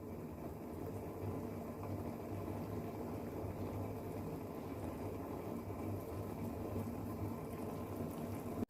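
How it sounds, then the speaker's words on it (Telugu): Tomato soup bubbles in a pot on the stove, a soft continuous simmering burble, close and quiet, ending with a brief sharp click. "చూడండి ఎంత బాగా మరుగుతుందో."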